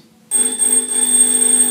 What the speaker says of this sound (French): On sonne à la porte.